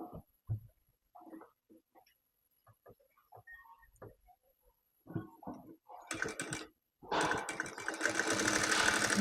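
A sewing machine runs close by as it stitches the sides of a baby jumpsuit, first scattered soft clicks and short handling noises, then two bursts of rapid, loud mechanical stitching near the end.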